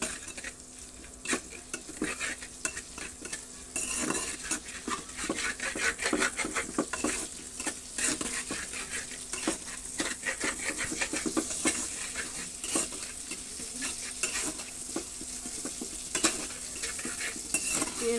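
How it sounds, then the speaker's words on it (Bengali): Onions and chilli fry in white oil in a wok, with a steady sizzle under rapid, repeated scraping and stirring of a metal spatula against the pan, close and continuous. "পেঁয়াজগুলো একটু ভেজে নিই।"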